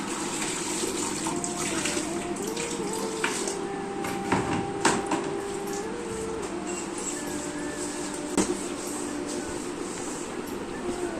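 Water from a tap runs into a container during household chores, making a steady close splashing and gushing that continues throughout, with occasional knocks and clatter.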